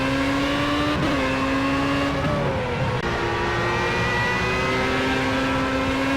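Race car engines scream in Project CARS on the Dubai circuit, a loud, sustained high-revving drone with pitch shifts as cars shift gears and jostle on a straight.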